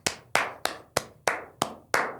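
A single pair of hands claps seven times at an even, unhurried pace, each sharp smack close and distinct with a short decay and quiet gaps between.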